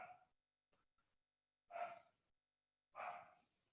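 A dog barking somewhere nearby, a faint short yelp followed by two clear, separated barks spaced about a second apart, with quiet gaps between them.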